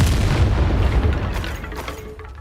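A Confringo spell explosion in Hogwarts Legacy, a loud, deep booming blast with rumbling low end that rolls on and slowly decays over a couple of seconds.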